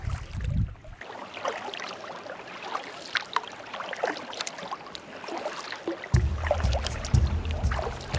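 A kayak paddles along the south shore of Lopez Island, with steady water splashes and trickles that swell into louder, closer sloshing near the end, and no voices.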